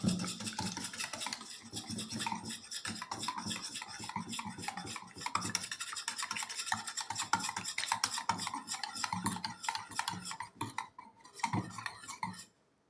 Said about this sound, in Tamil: இது நல்லா மிக்ஸ் பண்ணணும்.